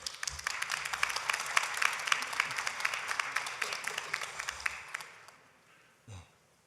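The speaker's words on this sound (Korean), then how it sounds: "다 함께 하나 앞에 영광의 박수 올려드리겠습니다." A church congregation claps together during a Sunday worship service, a dense, steady wash of applause lasting about five seconds before fading, followed by a brief isolated sound near the end.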